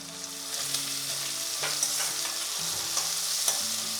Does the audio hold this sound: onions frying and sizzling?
yes